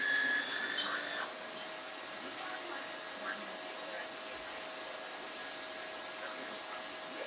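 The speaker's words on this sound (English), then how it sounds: "The vacuum right there." Vacuum cleaner running indoors, a steady broadband motor whine with a faint tonal hum, constant throughout after a slightly louder start, with faint background voices.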